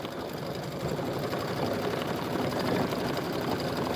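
Embroidery machine running a stitch-in-the-ditch line on a Kimberbell bunny bench pillow, a close, continuous rapid mechanical hum and patter with no speech.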